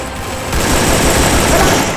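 Loud, sustained rapid gunfire from the mobile shooter Free Fire during a ranked Clash Squad match, a continuous burst of shots that stays close and fills the whole moment.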